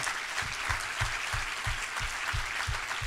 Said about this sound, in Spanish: Le podemos dar un aplauso al Espíritu Santo